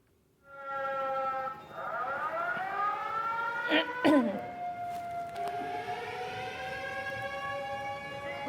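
A civil defense air raid siren winds up and wails steadily during a city blackout mock drill in Rajasthan, loud and sustained, with a brief burst of coughing midway.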